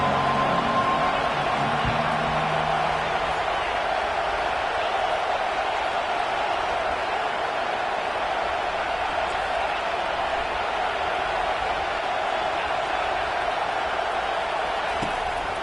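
A home crowd at a football game roars in a dense, steady wash of noise that holds at the same loud level from start to finish.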